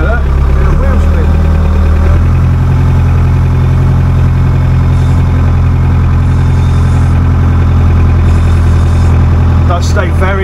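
A Ford tractor engine, a 5610 or 4000, chugs loudly and steadily in a low idle-like drone while the wheels spin on wet, damp farm ground, with someone speaking over it.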